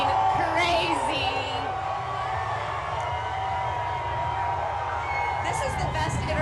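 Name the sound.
crowd cheering at NBA championship parade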